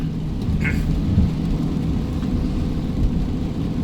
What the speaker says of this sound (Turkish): Hava biraz yağmurlu, rüzgarlı, kar yağıyor hafif karışık bir hava var